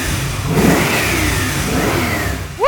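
A 1970 Chevy Chevelle pro-touring car with an LSX V8 revs up close, the deep engine rising and falling through a couple of throttle blips over a rumbling idle, with a sharp rising whine at the end.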